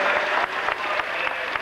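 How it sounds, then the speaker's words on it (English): A huge racecourse crowd applauds the horses Zeditav and Vo Rogue, dense sustained clapping with a steady rattling texture throughout. "the huge crowd applauded 2 of the turf's heroes"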